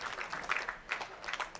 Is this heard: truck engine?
no